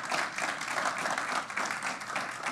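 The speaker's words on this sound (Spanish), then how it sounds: "Denle ese aplauso fuerte a Cristo" A church congregation breaks into sustained, loud applause, a dense wash of many hands clapping together at steady intensity, with no voices standing out.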